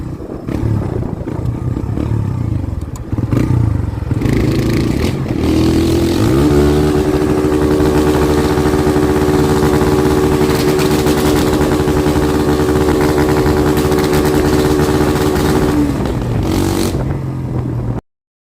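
Kawasaki Barako 2 motorcycle engine revving hard and holding high revs with rapid crackling backfire, loud and close, dropping back toward idle near the end.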